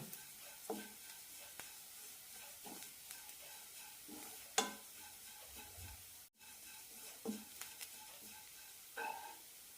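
Grated coconut toasting in a pan, a low steady sizzle punctuated by scattered scraping stirs, quiet and near with a short gap partway through.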